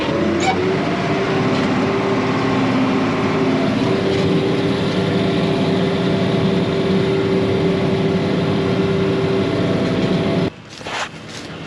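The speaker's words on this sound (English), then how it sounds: "put the tractor in a really low gear and just crawl over it" A tractor engine crawls in a very low gear while baling straw, giving a loud, steady drone with a sustained hum that runs unbroken until it drops away near the end.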